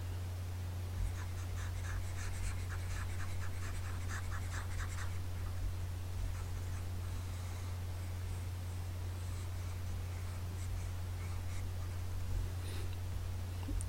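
Pink marker writing being erased from a whiteboard, a soft continuous brushing scrape over a steady low hum, with faint rubbing strokes early on and no talk.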